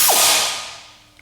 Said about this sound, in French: c'est branché à un tuyau qui est relié à une grosse bonbonne d'air comprimé. Et quand j'appuie là, ça fait un bruit que j'adore